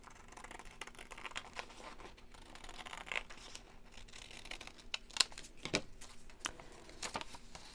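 Scissors snip through fabric along an acrylic Corner Creator template, giving faint, intermittent close cuts and crisp rustles over a quiet background.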